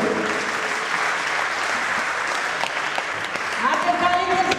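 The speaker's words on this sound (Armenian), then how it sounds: "ծափերը ավելի" Loud, steady applause from an audience at a military unit event, sustained without a break, with voices mixed in underneath.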